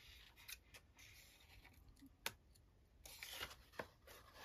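Quiet snipping and crisp cutting sounds from scissors cutting a vintage book, a few sharp clips spaced irregularly, close and faint with no talking.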